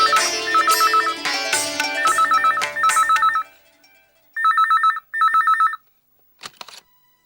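Telephone ringing in a Tamil television serial household, first under layered music, then two clear electronic ring bursts alone, followed by a faint brief sound.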